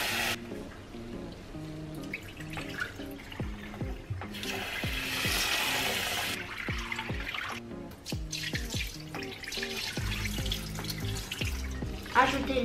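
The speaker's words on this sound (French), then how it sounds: "Rincez soigneusement le riz sous l'eau froide." Rice being rinsed under cold running tap water, a continuous splashing stream with scattered clinks and stirring knocks in a bowl, close by, with the flow surging louder at moments.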